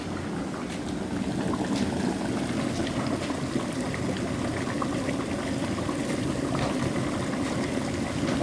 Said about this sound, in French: Ça bouille bien, là.